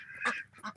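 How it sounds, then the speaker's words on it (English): Two short, nasal quacks from Ancona ducks, close by and fairly faint, the second one slightly shorter than the first. "These are Ancona ducks."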